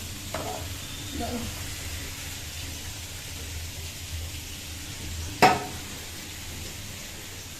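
Cauliflower, previously blanched, frying in a pan with a steady low sizzle, a few scrapes of stirring and one sharp clatter near the end; no talking.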